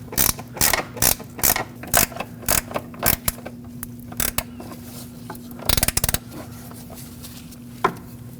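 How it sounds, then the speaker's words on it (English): Metal clicks and ratcheting bursts ring out as a wrench snugs the upper control arm bolts on a Lexus IS250, coming in short, irregular clusters with quiet gaps between them, close and fairly crisp. "I'll grab that wrench that we used earlier and snug them up."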